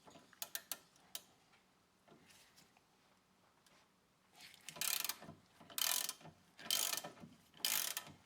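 A hand ratchet works loose a 16 mm drop link on a car suspension, with sharp clicks at first, then several loud bursts of rapid ratcheting separated by short pauses.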